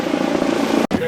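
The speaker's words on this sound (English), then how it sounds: "there's planes and helicopters flying all over, like the one you just saw" A helicopter flies over an airport, its steady rotor drone loud and continuous, cut by a brief gap near the end before resuming.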